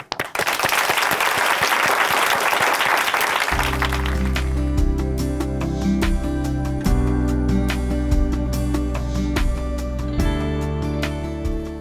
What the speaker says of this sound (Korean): 어느 때보다도 큰 박수로 모시겠습니다